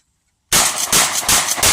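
A Mossberg Maverick 88 20 gauge shotgun fires after a moment of silence: a loud, close blast that rolls on as a sustained, roaring boom with pulsing echo to the end.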